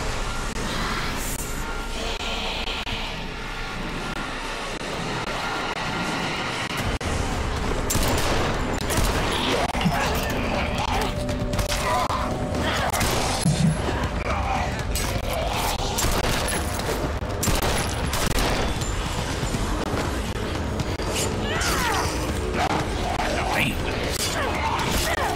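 Sustained rapid gunfire and automatic weapon bursts from the video game MW3 Zombies, dense and continuous, with people talking over the shooting.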